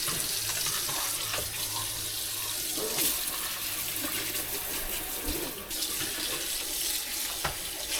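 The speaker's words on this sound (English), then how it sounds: "We'll just let it fill back up and give it a good rinse." Tap water runs steadily into a container so tomatoes can be rinsed, a continuous close rush with small splashes and a few clinks, with no speech.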